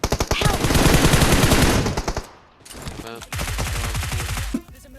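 Rapid automatic gunfire in the PUBG Mobile battle game, loud sustained bursts with a short pause, then another long burst that cuts off sharply.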